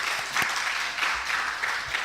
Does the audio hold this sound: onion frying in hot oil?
no